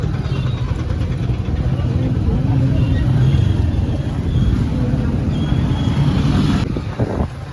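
Busy market-day road traffic in a town street, a steady drone of engines from cars and larger vehicles passing close by, with voices of people speaking over the rumble.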